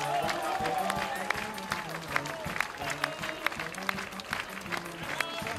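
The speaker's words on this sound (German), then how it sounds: "Ihren Applaus bitte" Scattered crowd applause rings out at an open-air folk festival parade, the 50th Europeade in Gotha, Germany, with uneven claps, brief musical tones and voices mixed in.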